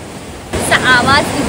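High-tide ocean waves at Shrivardhan beach wash in with a steady broadband rush that swells suddenly and stays loud, with a voice speaking briefly over the surf.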